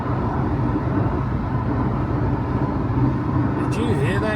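Supercharged Jaguar S-Type R accelerating hard, a steady loud engine roar and road rumble filling the cabin throughout, with a brief higher whine near the end.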